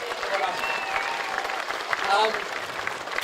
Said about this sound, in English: give you a round of applause to those boys